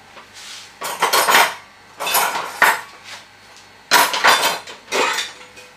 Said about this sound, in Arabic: غندير بالمعلقه نبقى نكب عليه